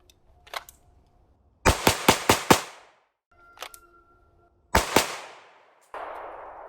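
A Springfield Prodigy pistol fires sharp, loud, close gunshots, first a quick string of about four, then single and double shots with ringing decays and quiet gaps between.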